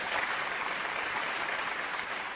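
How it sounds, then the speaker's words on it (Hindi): An audience at a business seminar applauds with steady, dense clapping that holds at an even level throughout, heard from a moderate distance with no voices over it. "जोरदार तालियां एक बार फिर"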